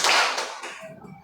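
A classroom of students does a clapping game, a sharp burst of claps that quickly dies away.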